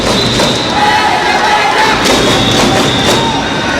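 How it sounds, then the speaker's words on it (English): A badminton stadium crowd cheers and roars loudly and continuously at a 2012 Axiata Cup match, with a commentator talking over the dense, sustained noise. "And the crowd here inside the Badminton Stadium up on its feet"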